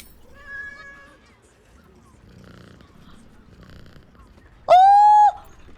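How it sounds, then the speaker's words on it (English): A cat in the Baldur's Gate 3 video game lets out one loud, short meow near the end, after a faint tonal sound and quiet game ambience. "You're a pretty kitty, aren't you?"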